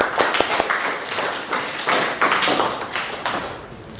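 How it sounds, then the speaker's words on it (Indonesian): A room of people clapping together at a teacher's prompt, a loud, busy patter of hands lasting several seconds without talk. "Tepuk tangan untuk kalian semuanya."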